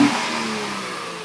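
A car exhaust revving from a Nissan or Acura, a sharp rev that falls away into a fading engine drone, close and fairly loud with no talk over it.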